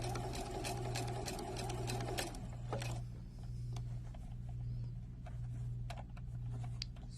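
A Juki sewing machine stitches bias tape onto a neckline, its motor whirring in a fast, steady mechanical rhythm up close. The run slows and shifts after a couple of seconds, leaving a softer hum with scattered ticks and clicks.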